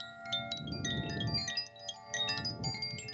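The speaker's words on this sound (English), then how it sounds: "this is called a Koshi chime" A Koshi wind chime of the water element rings with layered, shimmering metallic tones, clusters of bright struck notes overlapping and sustaining with no voices present.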